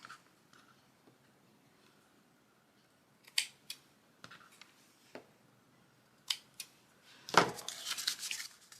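Scissors snip through paper seed packets for a spring craft, a few sharp separate cuts after a quiet start, then a denser flurry of rustling snips at the end.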